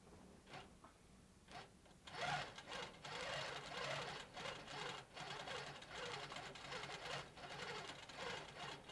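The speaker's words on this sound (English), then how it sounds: "here is the magic of ProStitcher, where it actually just stitches by itself" A Handi Quilter Pro-Stitcher computerized quilting machine stitching on its own, a steady rapid mechanical needle chatter with rhythmic whirring pulses, fairly close and even, with no talking over it.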